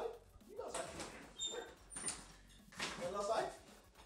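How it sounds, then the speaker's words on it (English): Dog named Bimo moving around nearby in a home kitchen, with faint whimpers and small yips under people talking, plus a brief door sound. "Got my dog over to the side there, Bimo"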